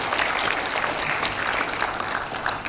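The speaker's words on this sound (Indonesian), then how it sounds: "Kita kasih tepuk tangan dulu untuk Indonesia" An audience at a university graduation ceremony breaks into applause, a continuous wash of many hands clapping at once that holds steady, then thins slightly toward the end.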